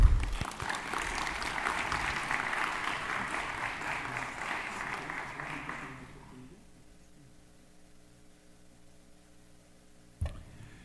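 An audience at a medical lecture on cardiac amyloidosis claps for an invited cardiology speaker, steady applause for about six seconds that fades out into a quiet room with a faint hum and a brief thump near the end.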